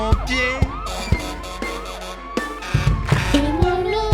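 Fire truck siren in a children's driving song, with looping wail sweeps blended into upbeat music and percussion, moderately loud and partly buried in the mix.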